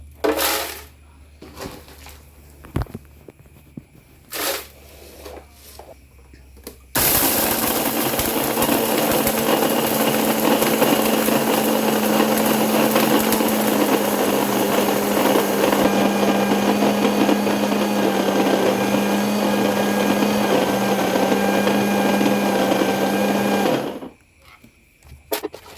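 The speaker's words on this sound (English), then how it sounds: "I'm going to use my grinder for this, and I'm going to grind it little by little till I finish grinding everything." A small electric grinder blitzes a homemade cereal mix, running loud and steady with a whining motor for about seventeen seconds before stopping. Softer handling noises come before it starts.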